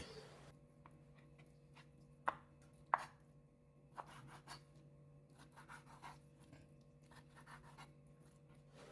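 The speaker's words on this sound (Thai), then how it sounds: "ซี่โครงหมู 800 กรัมครับนำมาหั่นไว้เลยนะครับ" Pork ribs are chopped with a knife on a board in a kitchen, giving a few sharp, isolated thuds over faint background hum.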